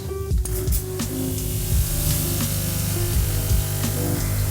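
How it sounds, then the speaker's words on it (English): A pump-driven rain spray system runs in a turtle tank, giving a steady hiss of falling spray over a continuous motor hum, with a few soft clicks and no voices. "we're gonna turn on the system and see if the spray actually works"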